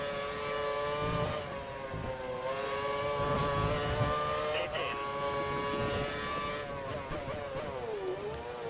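Formula One race cars in the F1 2013 video game, a loud, steady high-pitched engine whine that shifts pitch through gear changes and dips as the car slows into a corner.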